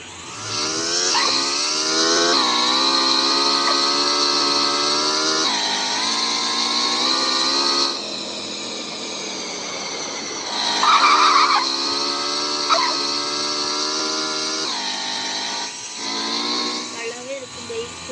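Video game sustained racing engine drone with layered harmonics, punctuated by screeching tire skids, continuous and loud throughout with brief surges.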